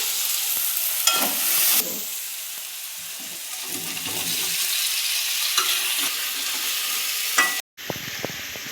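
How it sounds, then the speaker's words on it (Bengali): Mustard paste sizzling and frying in hot oil for a Bengali aloo shorshe ilish curry, a steady close hiss with bursts of spattering and stirring, briefly cutting out near the end before the sizzle resumes. "এবার আমার তেলটা গরম হয়ে গেছে, এখন সরষে দেব"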